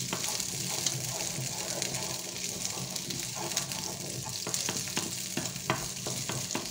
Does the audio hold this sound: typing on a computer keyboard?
no